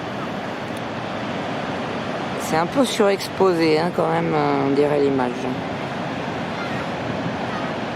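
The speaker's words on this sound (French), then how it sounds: "Je vais filmer un petit peu plus les vagues," Large ocean waves breaking along the shore make a steady, full roar throughout, with someone speaking French over the middle of it.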